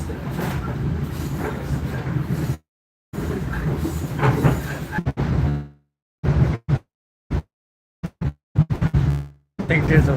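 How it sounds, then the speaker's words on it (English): A commuter train bound for Stamford rumbles along with steady rail noise, cutting out in repeated sharp gaps and dropouts, with people talking over it. "This is the train to Stamford."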